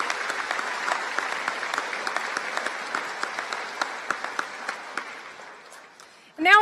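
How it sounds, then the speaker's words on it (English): An audience applauds at a 2017 summer university graduation ceremony, producing a sustained wash of clapping in a large hall that slowly thins and fades before a sudden loud burst at the end. "A warm round of applause for these accomplished professors and teachers."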